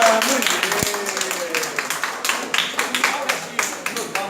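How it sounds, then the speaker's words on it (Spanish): Audience at a health services training session breaking into rhythmic, emphatic applause, sharp regular claps close by over a few seconds, with brief voices at the start. "¡Fuerte el aplauso porque se lo acaba de ganar!"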